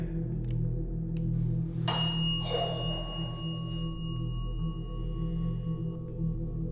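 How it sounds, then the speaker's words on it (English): A single bell chime rings out, a bright metallic ding with a follow-up strike that decays slowly over several seconds against a steady low background hum in an old house in South Pittsburgh. "Are you the same person that was pressing the bell when we were upstairs?"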